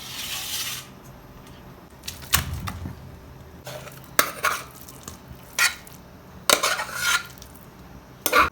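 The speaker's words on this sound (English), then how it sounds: "So now mash this really well." Cooked vegetables for cutlets being mashed into a paste, with scattered clinks and scrapes of a utensil against a pot, irregular knocks and rubbing at close range.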